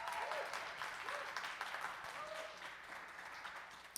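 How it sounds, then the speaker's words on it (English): A recital audience applauds steadily for a music instructor at a student's final jazz piano recital, with dense, even clapping at moderate distance that fills the room without a break. "so please give her a round of applause."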